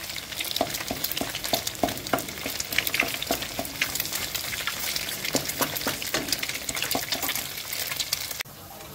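Food frying in ghee in a pan, a dense close sizzle with frequent scraping and tapping stirs in a quick irregular rhythm, ending with a softer steady hiss and no speech.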